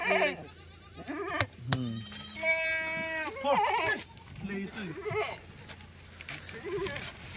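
Kathiawari goats bleat repeatedly up close, several loud wavering calls overlapping one another, with people talking in the background.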